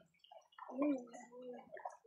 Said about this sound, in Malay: Dengar tu bunyi air.